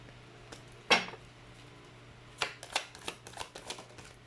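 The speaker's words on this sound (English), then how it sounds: "let's actually pull up another set of cards" Tarot cards riffled and handled on a table, one sharp shuffle burst followed after a pause by several quick flicks and snaps as cards are pulled, close and fairly quiet.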